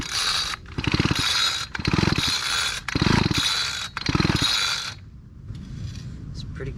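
Pull-start cord on a free, oil-flooded garden tiller engine yanked four times in a row, each pull a loud whirring ratchety rasp of the recoil starter and turning engine, followed by quieter mechanical rattling.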